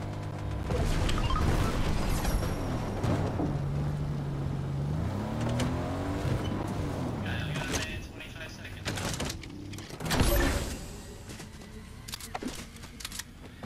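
Car driving in Fortnite Zero Build duos, a continuous engine drone with rising and falling pitch as it moves, a loud crash or bump near the end, heard under game effects.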